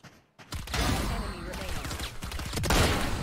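Rapid bursts of automatic gunfire from a Valorant match rattle close and loud after a brief quiet start, with dense overlapping shots running to the end.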